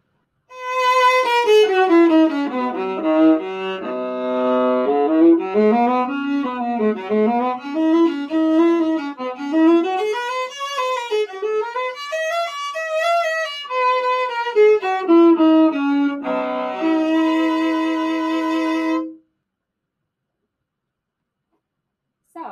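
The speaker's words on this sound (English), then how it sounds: "The next piece I'm going to play for you that shows you what the viola sounds like" A solo bowed viola playing a flowing, continuous melodic line in the style of a cello suite, resonant and close, ending with a held note before silence.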